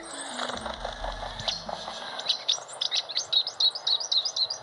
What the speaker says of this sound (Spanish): cómo cantan estos gorriones